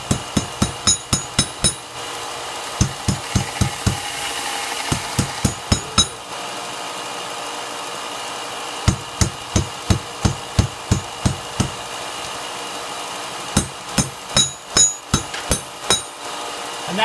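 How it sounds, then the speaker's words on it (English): Sharp metallic hammer blows ring out on a railroad spike blade as it is bent into a curve, landing in quick bursts of several strikes separated by short pauses. "To get it to curve over, I'm hitting it against that surface and it's going to give it a gradual curve."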